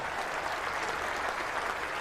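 Cricket crowd at a Test match ground between England and Australia applauding a boundary, a steady, distant wash of clapping from a large stadium audience that holds evenly for two seconds.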